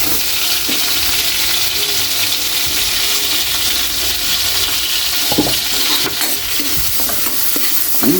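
Garlic and onion sauté in hot oil for a pork liver dish, a loud, continuous close sizzle with occasional stirring scrapes throughout.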